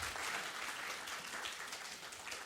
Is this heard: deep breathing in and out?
no